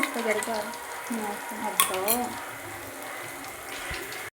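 Masala for mutton curry stirred in a pan after onion paste goes in: metal scraping and clinking against the pan over a soft sizzle, short and close, with a voice speaking throughout.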